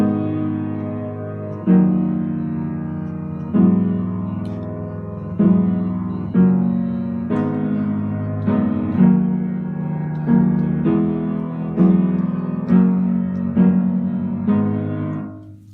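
Guitar chords from the ending of a song ring out alone in a steady repeating pattern, each strum landing about every two seconds with clear, close sustain.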